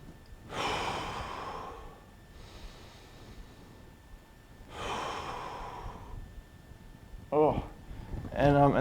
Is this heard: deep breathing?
yes